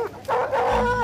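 Cadaver dogs trained to find human remains give a short whining, yelping bark, a single drawn-out bark close by lasting under a second, with no one talking.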